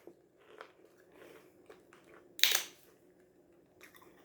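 Someone munches homemade fried oysters up close, with quiet chewing followed by one sharp crunchy bite and softer mastication afterward.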